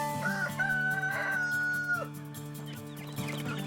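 On a farm, a rooster lets out one long drawn-out crow, close and clear, while several chickens cluck in short bursts around it before the clucking carries on alone.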